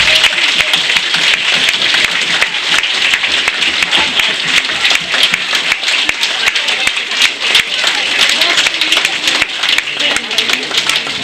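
Loud, sustained applause from a crowd at a Polish village carnival festival, many hands clapping densely and close, with voices calling out beneath the clapping throughout.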